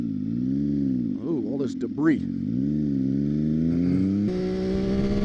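A three-cylinder middleweight sportbike engine with a semi-aftermarket exhaust drones steadily while riding, its pitch rising and falling with throttle, as someone talks briefly over it.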